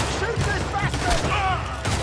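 Gunfire in a PS4 video game, a burst of sharp shots and booms in quick succession mixed with shouting voices and game sound effects.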